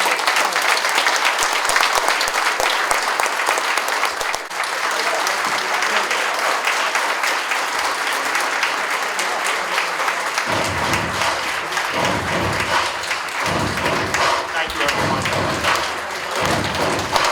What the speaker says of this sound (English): I want a special round of applause for that.